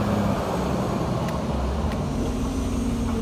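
A sound system truck pulls in at a village street party in Povoado Terra Mole, giving a steady, loud, close diesel engine rumble with traffic-like road noise throughout.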